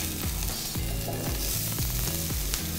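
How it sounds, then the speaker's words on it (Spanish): Oil sizzling on a hot plancha griddle makes a continuous, fairly loud crackling fry with small rhythmic pulses running through it. "Ya tenemos la plancheta caliente. Vamos a agregar aceite. Ese ruidito tiene que hacerse"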